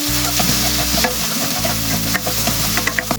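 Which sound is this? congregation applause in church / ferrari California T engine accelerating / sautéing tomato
sautéing tomato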